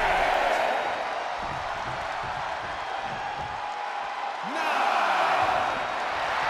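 Arena crowd noise from a WWE 2K24 NXT wrestling match, a steady broad roar of cheering that dips briefly and then surges back, with faint thuds beneath.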